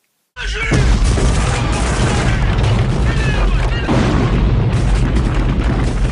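Loud, dense booming blasts and crashing debris from the action film Predator, a continuous barrage with layered music and effects running without a break.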